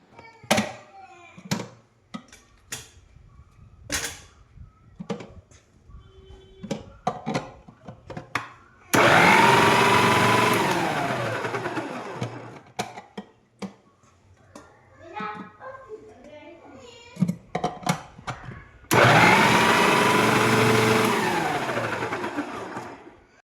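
An electric chopper cutting onions in a home kitchen: two loud, steady motor whirs of a few seconds each that rise and then fade, separated by stretches of people talking and light kitchen clatter.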